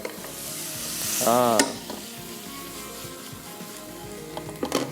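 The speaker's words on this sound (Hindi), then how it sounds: "चिकन मिक्स करेंगे, क्रीम डाल के इसको करेंगे मिक्स" Grilled chicken and cream are stirred in a hot pan for a burger filling, giving a steady sizzle with a brief louder scrape and clatter, then soft scattered utensil taps, close and without talk.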